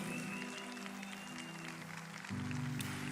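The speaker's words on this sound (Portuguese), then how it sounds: "E eu queria uma salva de palmas para essa maravilhosa" An audience at a motivational talk applauds for several seconds in a continuous, moderately loud patter, with a faint musical tone running underneath.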